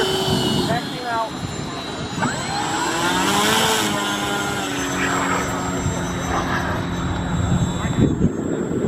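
A model Pilatus PC-21 airplane taxis out with a steady whining engine and propeller drone close by, while people talk over it.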